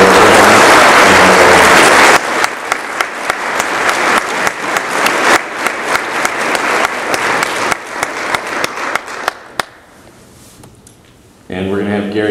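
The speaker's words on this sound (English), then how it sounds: "could we have a big round of applause for all the governor's sustainability awards?" Loud applause from an audience at the 2013 Governor's Sustainability Awards ceremony, a dense wash of clapping that fades after a couple of seconds into scattered claps and room noise. A voice speaks near the end.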